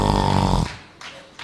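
A voice imitates snoring with a few seconds of rough, rasping, loud breath noise that cuts off abruptly and is followed by brief quieter snorts.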